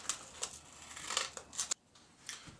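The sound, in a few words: scissors cutting adhesive-backed silicon carbide sandpaper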